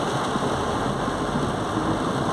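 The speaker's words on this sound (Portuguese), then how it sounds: "Vamos na carona vendo a chuva aqui em nossa Labão." Heavy rain during a storm in Lapão, Bahia, heard from inside a moving car on a narrow street, a dense steady hiss with engine rumble underneath, loud and unbroken throughout.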